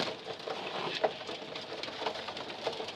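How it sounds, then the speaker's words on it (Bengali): Domestic pigeons feeding on grain, with a steady busy patter of pecking taps and a few louder clicks over soft background noise; faint cooing may be mixed in. "কবুতরগুলো খাওয়ার জন্য পাগল হয়ে সেটা"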